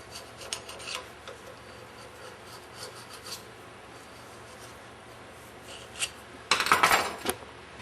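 Scraping heavy corrosion off a part of a Meyer E 47 snowplow pump, a series of quiet raspy rubbing strokes that builds to a louder, harsher scrape near the end.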